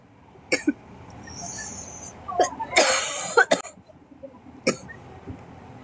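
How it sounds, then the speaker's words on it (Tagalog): Several short, dry coughs come in separate bursts, one fuller cluster in the middle, close to the microphone in a quiet room. "Kasi parang dry cough pa lang siya."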